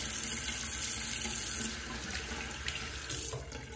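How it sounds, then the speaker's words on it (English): Tap water runs steadily into a bathroom sink for a quick rinse after a shave, a continuous close hiss and splash with no speech. "let me put that to the side, do a quick little rinse"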